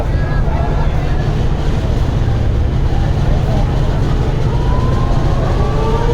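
Passenger launch ship backing slowly in reverse gear at night on a river route toward Kuakata, a steady loud engine drone and water rush mixed with heavy wind buffeting, continuous throughout.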